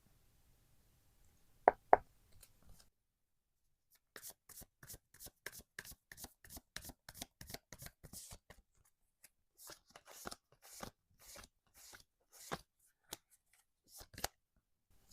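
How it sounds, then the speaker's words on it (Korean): Tarot cards riffle and flick in quick bursts of crisp, papery slaps, with a couple of sharp taps early on, close and quiet against near silence. "다른 타로 카드로 뽑도록 하겠습니다."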